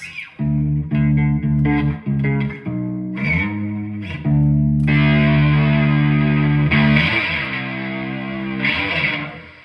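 Electric bass guitar playing sustained low notes with a shimmering chorus effect, then a gritty distorted tone from a distortion effect kicks in, loud and close.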